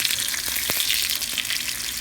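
A thick-cut tonkatsu pork cutlet frying in a pan of oil, a dense continuous hiss and crackle with scattered sharper pops, close and loud.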